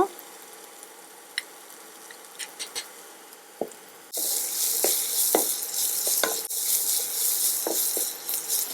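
Onion and salt for oats upma go into a pan: a few light clicks and taps at first, then a sudden loud hissing sizzle that continues with stirring scrapes over it.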